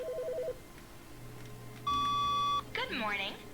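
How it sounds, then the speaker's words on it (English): A telephone rings in The Stanley Parable Ultra Deluxe with short electronic beeps, then a sustained ringing tone and a brief warbling chime, fairly clear and close. "I hear a phone."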